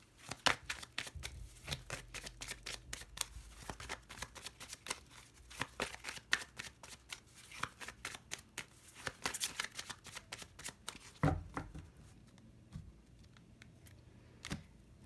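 Tarot cards being shuffled by hand, a long steady stream of close, crisp riffling flicks and soft slaps, fairly quiet, with a brief louder tap near the end.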